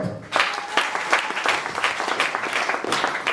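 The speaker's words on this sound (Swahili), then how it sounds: "Hebu wapigieni makofi hapa." A church congregation claps in a lively run of applause, with hand claps clustering into loose rhythmic bursts, moderately near and steady for several seconds.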